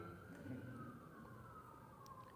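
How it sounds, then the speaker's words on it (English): A faint, distant siren wails on a single drawn-out tone that slowly drops in pitch, heard over low background hum. "And the siren is back again."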